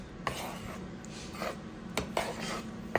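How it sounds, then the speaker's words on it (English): Dry cornbread ingredients for a jalapeño cheddar batch being mixed in a bowl: soft steady scraping and rubbing with a few sharp utensil clinks against the bowl, close and fairly quiet, no talking. "I'm just going to give these dry ingredients a mix"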